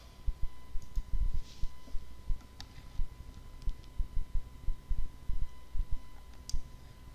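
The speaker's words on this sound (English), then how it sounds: "I click the create button." Computer mouse clicks while building a database in Microsoft Access, a quiet run of sharp irregular clicks and ticks close by, alone without talk.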